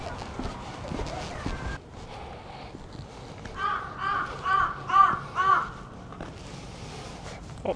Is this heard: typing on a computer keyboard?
no